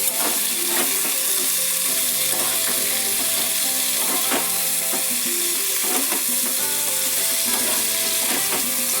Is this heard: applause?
no